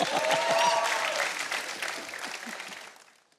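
A TV game show studio audience on Deal Or No Deal breaks into loud, dense applause that holds steady, then thins and fades away toward the end.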